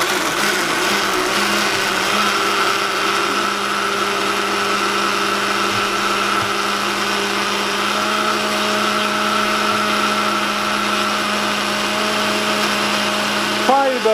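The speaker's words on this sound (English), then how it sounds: "we have our mixed fruit in the blender jar. Let's go ahead, Annalisa, and let's see if we can make a smoothie" A HadinEEon blender whirs steadily as it purees mixed fruit into a smoothie, a loud continuous motor hum with a sustained drone that holds throughout, speed rising near the end.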